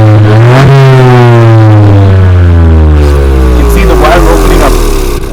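A 2019 Ford Fiesta ST3 engine revs hard, pitch climbing sharply then sliding down as it winds back, loud and close, with a brief shout near the end.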